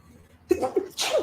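A sneeze set off by an air conditioner blowing indoors, heard as a single loud, close burst with a quick intake followed by a sharp, breathy expulsion.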